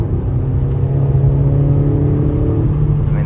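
A 2021 Acura RDX A-Spec engine hums and revs steadily at a sustained high pitch, close and loud, with no talking.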